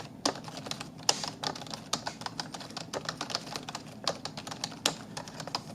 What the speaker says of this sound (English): So sound test real quick for my keyboard nerds out there.